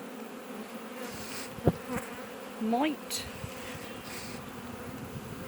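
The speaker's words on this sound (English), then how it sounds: "buckfast bees don't get carried away with their swarming" Buckfast honey bees buzz softly and steadily close by, with a few louder passes as individual bees fly near, while a voice briefly says something.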